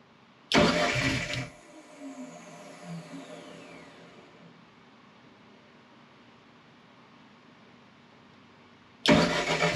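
A DSM drag car engine with a new turbo and head, Haltech-managed, cranks and fires in a loud burst, cuts out, leaving a long quiet stretch with faint whirring, then roars back to life near the end.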